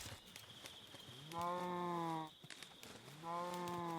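Two drawn-out moos from cows in the Minecraft Bounds modpack, each rising and holding for about a second, loud and clear over a faint steady hum.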